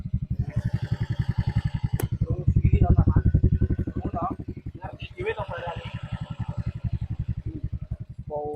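Classic Honda C70 motorcycle with a steady, close idling engine putting out a fast even thump throughout, briefly revving around the middle, while someone talks over it.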